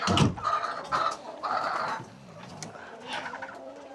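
Chickens cluck in short bursts at close range in a farm chicken area, several calls overlapping with some bird chatter, then quieter background noise.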